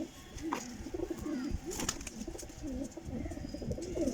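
Kasuri golden pigeons coo softly in a low, throaty murmur over a busy background hum, with faint wing flutters and distant chatter in the mix.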